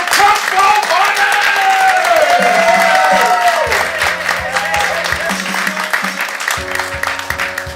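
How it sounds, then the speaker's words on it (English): An improv showcase audience claps and cheers loudly for a student team, a dense steady wash of hand claps and crowd noise over music with low sustained tones, lasting the whole stretch. "So get your hands clapping. Make some noise for Football Party!"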